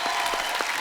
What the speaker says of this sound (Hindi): विसिल ब्लोअर की टीम के लिए एक बार जोरदार तालियां